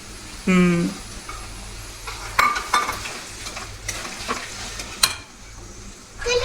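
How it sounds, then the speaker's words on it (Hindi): A sugar pickle made with non-refined sugar fries in a pan, with a busy sizzle, clattering spoon scrapes and sharp knocks against the pan; a brief voice sounds near the start. "इसको अब तो 15-20 मिनट भूनना है ऐसे"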